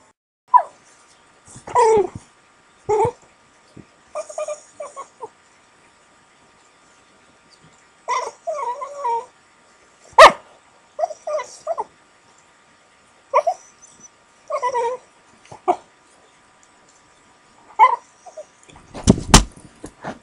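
A dog reacting to a picture of a war elephant gives scattered growls, whimpers and short barking bursts separated by silent pauses, close to the microphone.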